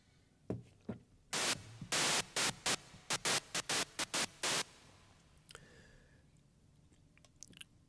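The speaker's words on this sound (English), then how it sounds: "Now white noise is very useful." White noise synthesized in a VST plugin fires as about a dozen loud, abrupt static bursts in an uneven rhythm, then gives way to quiet with only faint stray clicks.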